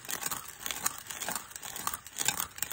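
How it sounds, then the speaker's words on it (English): Coffee beans are crushed by hand inside a metal bottle, giving close, gritty crunching and scraping in repeated strokes with no voices. "like a mortar and pestle, just grinding it up a little at a time"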